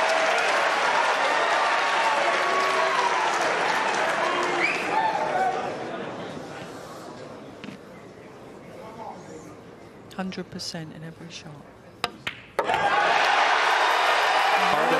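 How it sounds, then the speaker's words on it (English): A crowd at the 2022 Mosconi Cup pool match in Vegas erupts in loud applause and cheering, dense clapping fading under a commentator's voice before a second burst of cheers swells back near the end. "The crowd goes nuts"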